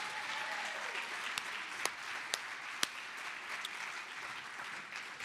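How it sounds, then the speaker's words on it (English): Audience applause for three student performers at a spring salon fundraiser, a steady wash of many hands clapping with a few sharp louder claps standing out, sustained throughout without talk. "Can we give a round of applause for all three of our participants?"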